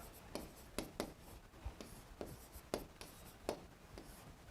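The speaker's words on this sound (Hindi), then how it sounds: "लिखे एक लाइन लिखते हैं" Handwriting a line on paper, faint scratchy pen strokes in short bursts with irregular pauses, close and quiet with no voice.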